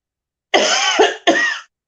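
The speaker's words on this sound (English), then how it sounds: "thinking about smoking is making me cough" Two or three harsh, close coughs in quick succession from one person, loud and raspy, with silence before and after.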